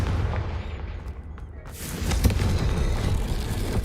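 The Confringo spell in Hogwarts Legacy erupts as a heavy explosive boom that swells into loud, rumbling blast noise and rolling debris, dense and close.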